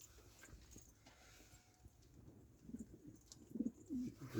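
Soft, low cooing from homing pigeons, faint at first and growing a little louder near the end, with no one speaking.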